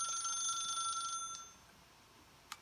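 Telephone ringing in The Stanley Parable video game, an electronic ring lasting about a second and a half before cutting off, then a short click, with no voices.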